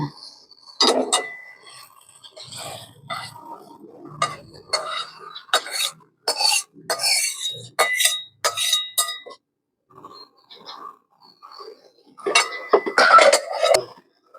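Metal pots and utensils clink and clatter in a home kitchen as a pot of cooked jute and other greens comes off the stove, scattered sharp knocks and scrapes with quiet gaps and louder clanks near the end.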